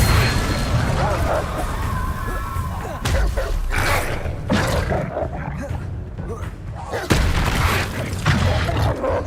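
A Depulso spell is cast during Hogwarts Legacy gameplay amid loud, dense combat noise, with roaring, booming bursts and crashing impacts layered throughout.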